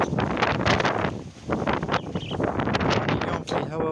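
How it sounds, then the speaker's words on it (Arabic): Strong outdoor wind gusting and buffeting the microphone, loud and continuous roaring rumble with brief rustling and clatter, dipping for a moment before surging again. "اليوم في هواء ورياح وحاجات كثير زي ما شايفين تقع الاشياء، وهواء ورياح"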